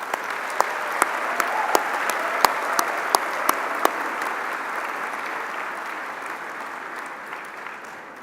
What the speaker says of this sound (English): ask that we all join in a quick round of applause for our graduates